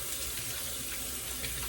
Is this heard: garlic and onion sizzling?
no